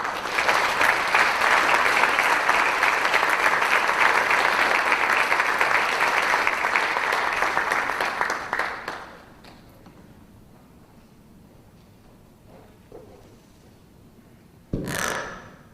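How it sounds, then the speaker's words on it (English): Loud applause from a crowd fills the first half, then cuts off into quiet room noise with a single sharp sound near the end. "Let's welcome, with a round of applause, Dr. Juan Dalmau Ramirez."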